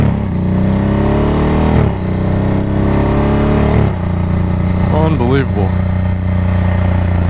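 A Ducati Hypermotard 1100 motorcycle engine revs loudly up and down in several bursts close by, its harmonic note rising and falling, with a short spoken exclamation near the end.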